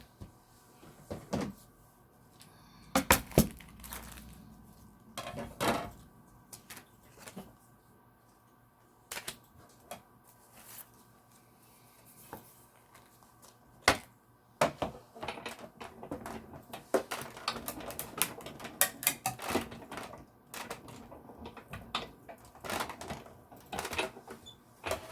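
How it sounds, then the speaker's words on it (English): A die cutting machine run over a die for foiling craft work, heard as a series of close clicks and knocks and then a steadier rolling, clattering stretch near the end, with no talk. "I need to die cut."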